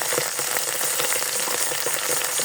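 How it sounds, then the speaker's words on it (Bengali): Pangas fish frying with garlic, ginger and chili paste fills the clip with dense, loud, continuous sizzling and crackle close up, with faint stirring scrapes throughout and no voices. "এখন ভালোভাবে নেড়ে নিব।"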